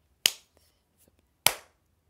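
Two sharp, close hand claps about a second apart, each a crisp smack with a short decay, in an otherwise quiet room with no talking.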